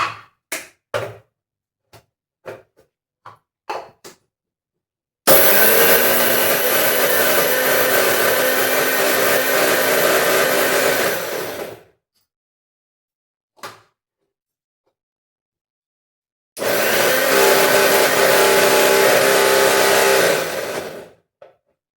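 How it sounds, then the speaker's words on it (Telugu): A mixer grinder blends garlic for mango pickle in two loud whirring bursts of about six and five seconds, separated by a pause. A few sharp clicks and knocks come before the first run, and a lone tap falls between the bursts. "దీన్ని మిక్సీ పట్టేసుకుందాం."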